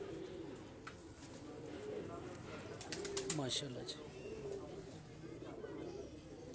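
Kamgar pigeons coo softly in a loft, low murmuring calls repeating faintly under a voice and light background noise.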